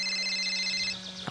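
A telephone rings indoors with a steady electronic trill, a bright ringtone holding for about a second before cutting off, alone with no talk.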